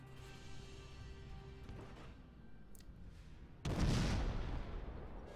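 Naval gunfire in World of Warships, a heavy boom that breaks out suddenly after a stretch of low rumbling battle ambience and holds as a loud roaring blast for over a second.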